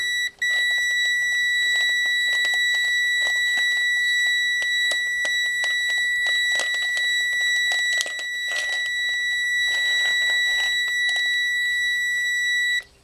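A continuity tester gives a steady, high-pitched electronic tone on an intact wire of a small OTTO vacuum cleaner, running unbroken for several seconds, close and loud, with faint clicks and rustling underneath.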